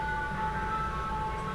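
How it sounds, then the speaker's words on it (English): A faint, steady electronic tune drifts from an ice cream truck somewhere in the distance, its sustained tones hanging over low background hum. "You can probably hear the ice cream truck in the background."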